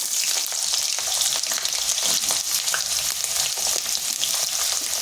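Cut potatoes frying in mustard oil with nigella seeds and dried red chillies, a loud, dense, steady sizzle with faint stirring scrapes, close up and without talk.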